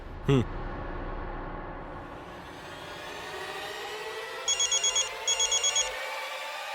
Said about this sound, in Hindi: उनका फोन आता ही होगा आपको।